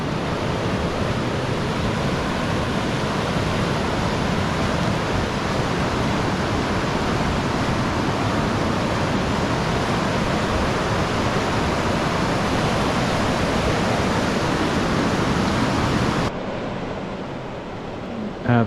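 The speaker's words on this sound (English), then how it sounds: "Hopefully the water's not too loud, but I love this sound." Stream water flows steadily along a forest trail in Yosemite's Mariposa Grove, a loud, close, continuous rushing wash with no pauses, ending abruptly near the finish.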